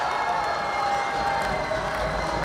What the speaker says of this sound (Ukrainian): Оплески на адресу кучера.